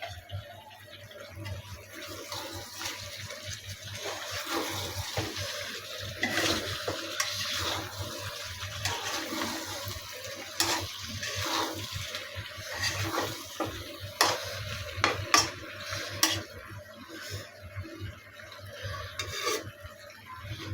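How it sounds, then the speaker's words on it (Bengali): Chicken kala bhuna being stirred with kala bhuna spice mix in a pan, a steady scraping and rubbing of the spoon over quiet sizzling, repeated in uneven strokes and close, with no talk. "দিয়ে ভালো করে মিক্স করে নেব"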